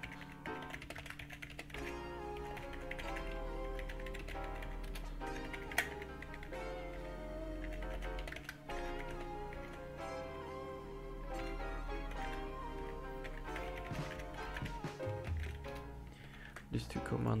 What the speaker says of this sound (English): So open CMD and write these commands.